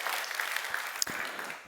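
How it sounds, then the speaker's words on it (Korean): Applause from a small congregation at an early-morning church service, a soft steady patter of clapping held at moderate level across the whole moment, with a single sharper clap standing out near the end. "우리 큰 박수 한번 해주셔요"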